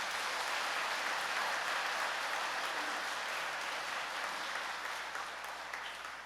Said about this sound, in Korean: 참부모님께 응원의 박수 한번 보내드리겠습니다